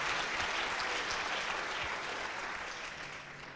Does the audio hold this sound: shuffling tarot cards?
no